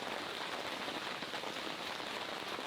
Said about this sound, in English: Oh, I love the sound of the rain in the tent